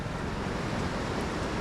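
Steady rushing water noise fills the scene continuously, broad and fairly loud, from the Kengeri stream outflow near Kanakapura, with no voices.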